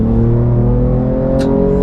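A 2023 Ford Ranger Raptor's engine revs hard in sport mode, a loud, steady, close-up roar with strong harmonic drone and no talk over it.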